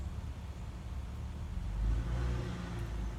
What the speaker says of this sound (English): There's a little red sports car.